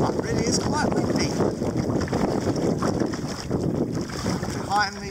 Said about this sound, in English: It really is quite windy.